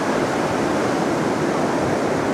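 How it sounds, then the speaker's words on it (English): Ocean surf on a short, eroded beach at Del Mar in San Diego makes a loud, continuous broadband wash of breaking waves with no pauses or voices. "The waves are quite nice."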